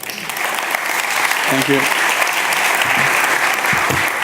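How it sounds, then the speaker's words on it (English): Steady audience applause rolls through a hall at a tech conference summit as a speaker takes the stage, even and continuous, with a brief spoken thanks over it. "give a round of applause for Onder"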